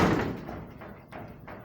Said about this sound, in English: The door opens and closes.